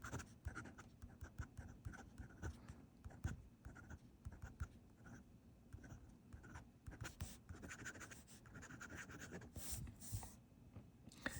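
A Sailor Trident fountain pen with a triple-slit nib writing on paper, giving close, faint, continuous scratchy strokes in irregular bursts, with no talking.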